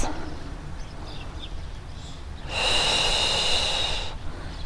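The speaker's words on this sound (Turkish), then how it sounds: "Nefes alıyorum." Deep, steady breathing during a prenatal pilates session with a large exercise ball, a soft airy breath swelling into a louder, sustained exhale-like rush midway through, close and alone without talk.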